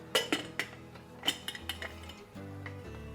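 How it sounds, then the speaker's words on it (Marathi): Metal lid set onto a bowl of lemon pieces inside a pressure cooker, several sharp close clinks and clatters of metal on metal followed by quieter scraping, with no talking. "त्याच्यावर आपण आता हे झाकण ठेवणार आहोत आणि कुकरला 1-2 शिट्ट्या देऊन देणार आहोत"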